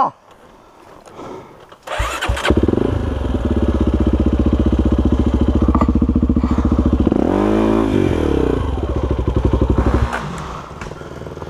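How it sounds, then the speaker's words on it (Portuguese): A hard enduro motorcycle on a trail starts with a thump and revs into a loud, steady, close engine note, briefly rising in pitch, then the engine cuts out near the end, with faint speech. "Minha moto desligou, cara!"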